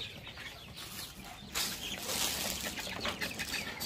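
A young bantam crossbred chicken, bred from a white bird and a bantam, clucks softly at close range, with short chirps and a brief flutter against faint background noise.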